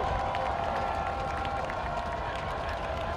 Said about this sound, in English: The Alta crowd making noise on 3rd down.